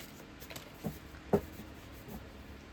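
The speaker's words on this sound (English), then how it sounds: "Just going to shuffle this a bit more." Tarot cards being shuffled by hand in a quiet room: soft, faint riffling and sliding rubs in a few brief bursts, close by and alone.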